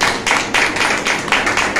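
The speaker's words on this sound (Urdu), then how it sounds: "خدا کے لیے زوردار تالیاں لگائیں اس بات کے لیے" A church congregation at a Sunday service claps loudly for God, in dense bursts of applause that swell and dip in rhythmic waves.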